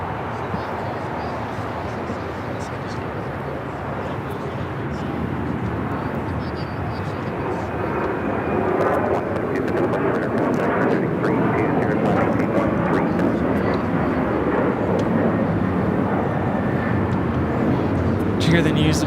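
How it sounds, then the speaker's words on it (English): An Air China Boeing 777-300ER airliner at LAX, a broad distant jet roar that swells gradually louder over about twenty seconds, with people talking over the engine noise. "Air China 777-300ER heading to the north side."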